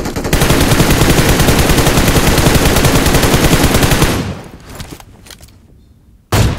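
Rapid MK rifle gunfire in a PUBG match rattles in a dense, loud burst for about four seconds, then fades into quieter scattered noise before a sharp final blast.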